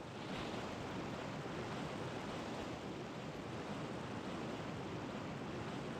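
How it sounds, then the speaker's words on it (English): A waterfall in the video game Brightis roars as a steady, dense rush of water, continuous and fairly faint, with no voices over it. "Can we find the waterfall in this darkness?"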